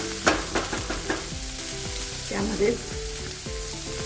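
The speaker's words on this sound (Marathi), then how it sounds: "आता हा कांदा फ्राय करून घ्यायचा" Onions fry in a pan for pepper paneer with a soft continuous sizzle and a few clicks and clatters of stirring. A voice speaks briefly over the cooking.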